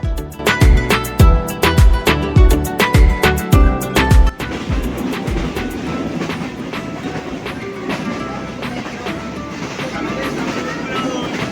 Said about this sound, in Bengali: আজকে যে ট্রেনে আমরা যাচ্ছি সেটা হচ্ছে মহানন্দা লোকাল মেইল